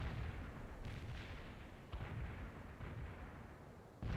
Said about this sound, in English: Barrage hit for full effect.